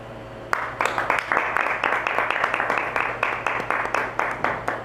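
Audience applause at a church prayer gathering: a crowd claps in a steady, rhythmic pattern, fairly close, continuing evenly for several seconds with no talk over it.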